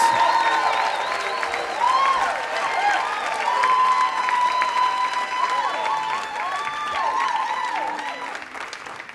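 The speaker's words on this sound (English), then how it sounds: "Make at least that much noise, twice as much noise for Matthew Dix as he comes up to the stage" A theater audience at a live storytelling slam in New York applauds and cheers steadily as the next storyteller walks up to the stage, a dense, sustained wash of clapping and whoops that holds for the full stretch before tapering slightly at the end.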